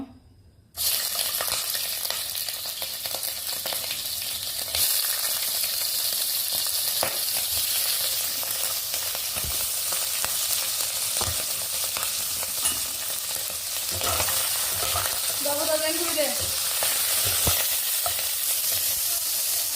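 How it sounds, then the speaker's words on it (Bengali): Shrimp sizzling steadily in hot oil in a pan, a continuous close frying hiss that starts abruptly after a brief silence and carries on evenly to the end. "আমি এখন এখানে চিংড়ি মাছগুলো ভেজে নিব"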